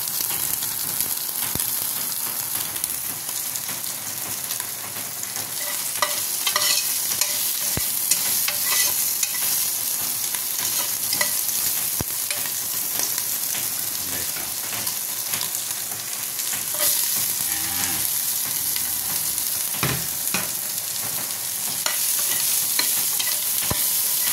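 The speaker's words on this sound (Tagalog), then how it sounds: "Lutuin mo natin yung mga taba-taba niyan. Yan. Yan yung panggisa natin. Yung sarili niyang taba." Beef fat frying in its own grease in a pan, a steady crackling sizzle with intermittent stirring clatter, close and continuous throughout.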